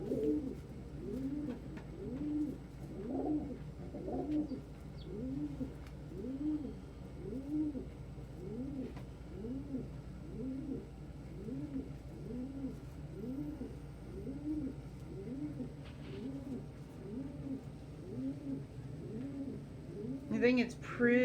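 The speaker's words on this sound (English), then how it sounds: "the bird wooing up there is PJ to Puddin'" Throaty, repeated cooing from a pet dove wooing its mate continues in an even rhythm for a long stretch, close and steady, with faint room noise and a brief brighter sound at the very end.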